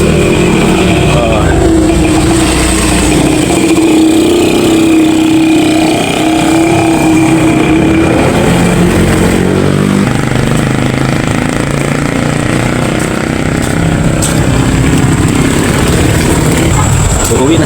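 Roadside traffic rumbles past nonstop, a loud, dense wash of engine noise with motorcycles and passing vehicles whining over a constant low drone.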